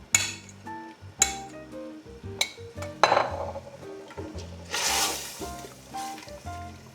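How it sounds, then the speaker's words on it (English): Spoon clinks and scrapes against a pot while a crushed tomato meat sauce with tomato paste simmers, irregular knocks and stirring strokes, close and moderately loud, no talk. "give it a good stir"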